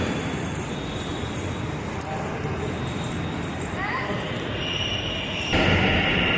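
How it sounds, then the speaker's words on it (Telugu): A Bangalore metro train arrives at an elevated station with a steady, broad rushing roar that swells slightly near the end. Voices talk faintly over it. "ట్రైన్ వచ్చింది పండు."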